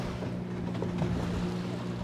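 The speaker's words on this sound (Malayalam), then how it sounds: "കാറ്റ് ഇതാണ് നന്നായിട്ട് ബോട്ടെടുത്ത് അങ്ങോട്ടും ഇങ്ങോട്ടും ഇട്ട് ഇങ്ങനെ അടിക്കുകയാണ്" Strong wind buffeting a fishing boat out at sea, a steady roar of wind and water with a low hum underneath, close and continuous for a couple of seconds.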